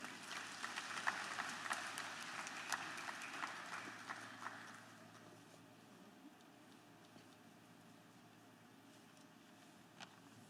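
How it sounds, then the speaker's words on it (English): Graduation ceremony audience applauds a valedictorian, a moderate, somewhat distant patter of clapping that fades out after about five seconds and leaves a quiet hall. "Give him a round of applause."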